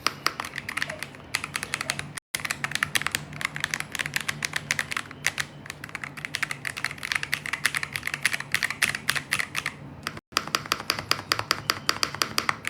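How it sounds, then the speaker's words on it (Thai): Typing on a soft-sounding wireless keyboard, a rapid, steady stream of muted key clicks up close, continuing for several seconds with two brief pauses. "คีย์บอร์ดเสียงนุ่มมาก ไร้สายด้วยนะ"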